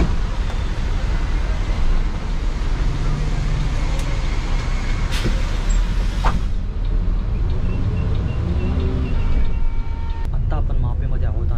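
Road traffic heard from inside a Shivneri bus in heavy traffic near Kalamboli on the Swargate to Thane MSRTC route, a continuous loud engine rumble and road noise with occasional sharp knocks and a horn-like tone, under steady talk.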